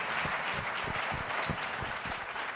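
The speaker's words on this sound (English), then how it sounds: "I think the board of directors deserves a" Audience applause at an evening conference panel session, a steady dense wash of many hands clapping at moderate volume, continuous throughout with no voices over it.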